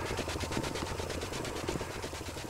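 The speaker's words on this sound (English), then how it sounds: "There's a helicopter sound." Helicopter rotor noise in the video game Kidnapped, a steady rhythmic chop pulsing at an even rate throughout, fairly close and continuous with no talk over it.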